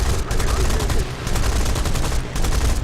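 Aircraft guns fire in sustained rapid bursts during a War Thunder dogfight, loud and dense, with brief dips between the volleys.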